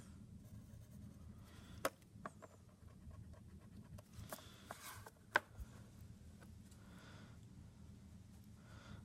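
A pencil draws lines by hand across paper, a faint continuous scratchy stroke with a few sharper taps and scrapes, close up against low background noise.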